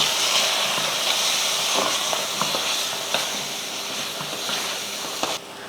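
Mutton masala with chili powder frying in a pan, giving a steady loud sizzle and hiss with occasional stirring scrapes and pops throughout.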